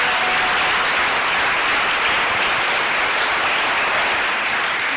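A church congregation claps together during a Sunday service, a full, sustained round of applause that stays loud and even from start to finish.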